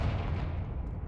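Confringo spell blast in Hogwarts Legacy, one brief, loud, low rumbling burst that fades quickly.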